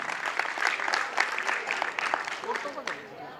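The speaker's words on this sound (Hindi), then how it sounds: "एक जोरदार तालियां।" Enthusiastic crowd applause at a 2022 business seminar event, a thick, continuous patter of many hands clapping that tapers slightly at the end, with a voice talking over it.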